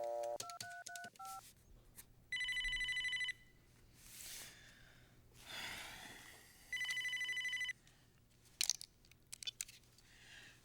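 Telephone placed on speakerphone: a quick burst of touch-tone dialing, then two long electronic ring bursts separated by a pause, heard faintly through a small speaker with light rustling and clicks around them.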